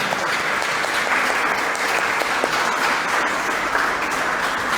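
Sustained applause from a church congregation at a Sunday Mass, a dense steady patter of many hands clapping throughout without a break.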